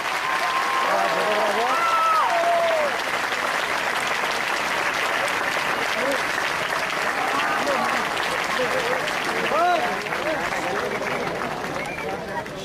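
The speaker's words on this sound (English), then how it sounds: "Just a big round of applause." A large audience gives a long, loud round of applause for Dr APJ Abdul Kalam at a PR Pote Patil educational institution event. Dense clapping holds steady throughout, with scattered voices and faint chatter mixed in.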